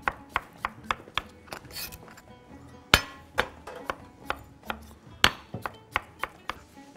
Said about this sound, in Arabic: قطعه برضو نفس تقطيعة البتنجان